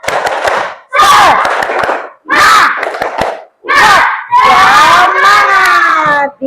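Schoolchildren in a classroom perform the 'tepuk semangat' spirit clap chant, loud bursts of group shouting punctuated by sharp rhythmic hand claps, in several chanted phrases with short gaps between them.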